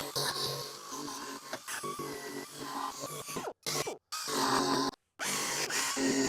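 A Sunex Surface Blaster fitted with a paint prep wheel grinding paint off metal, a loud, harsh continuous abrasive whine with a few brief cutoffs, close up.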